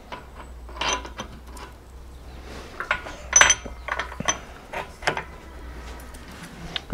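Metallic clinks, ratcheting and tool taps while a bolt is fitted and tightened on a motorbike's rear shock linkage, irregular close-up bursts over quiet background.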